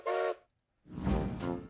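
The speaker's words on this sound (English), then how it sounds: "That's definitely a train whistle." A train whistle sounds in two blasts, a short high toot, a pause, then a longer fuller blow with another brief toot at the end.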